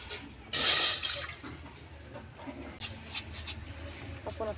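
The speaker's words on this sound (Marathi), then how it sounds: "चला आपण या तुपाच्या वाटीने 2 वाट्या पाणी ठेवूया." Two cups of water poured with a ghee bowl into a cooking pot over a wood-fired stove for balushahi syrup, a short loud splashing pour followed by quieter trickles and clinks.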